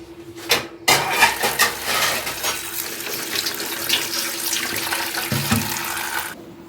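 Falsa berries being washed under running water, a steady close splashing and gushing stream like a tap into a sink, continuing throughout with small bumps of handling.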